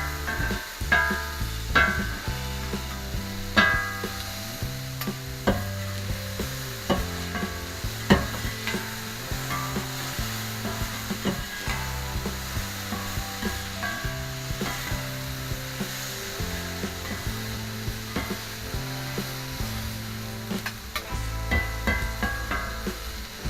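Onions stir-frying on a hot steel plancha for a Philly cheesesteak, a steady sizzle punctuated by repeated scraping and tapping of a spatula against the metal, close and continuous throughout with no talking.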